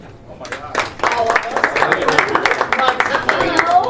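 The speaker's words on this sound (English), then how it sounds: "Let's hear it by applause if you're over 45." Audience applause from a live show crowd, a steady dense clatter of many hands clapping that swells up after a quiet start and holds at an even level.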